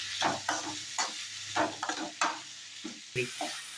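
Vadagam, onion and tomato fry in a pan for a Tamil fish kulambu, giving a close, steady sizzle broken by repeated scraping stirs of a spoon.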